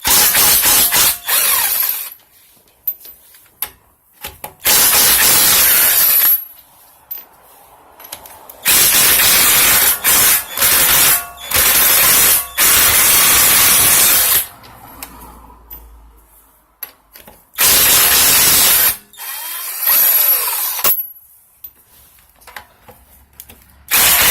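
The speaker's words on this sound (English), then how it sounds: "Now, make sure our impact drill is the right way." Impact drill removes wheel bolts on a 2017 Jeep Cherokee in several loud, harsh hammering bursts of a few seconds each, separated by quieter gaps with clinks and handling noises.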